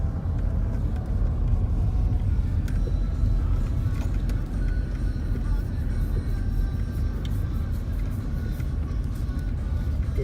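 Car engine rumbling steadily at close range while the vehicle is maneuvered and parked in a shady spot on a summer holiday metal-detecting outing, a continuous low drone with no talk.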